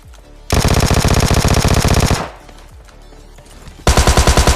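Automatic gunfire in the video game PUBG Lite: a loud, rapid burst of shots lasting nearly two seconds, a short lull, then another rapid burst starting near the end.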